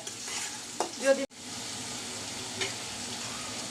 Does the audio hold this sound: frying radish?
yes